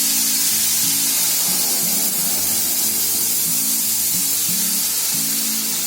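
Vegetable paste of onion and tomato hitting hot oil in a kadhai, a loud continuous hissing sizzle that holds steady throughout, with a low rhythmic hum underneath and no talking.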